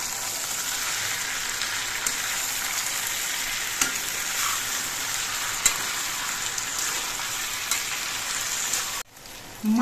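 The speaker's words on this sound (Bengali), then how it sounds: "মাছ দিয়ে সবজিগুলোর সঙ্গে মিশিয়ে দিতে হবে আর খুব আস্তে আস্তে নাড়তে হবে" Small Ganges mourola fish being gently stirred with taro stems and vegetables in a frying pan, a steady broadband sizzle with light scraping touches throughout, cutting off abruptly near the end.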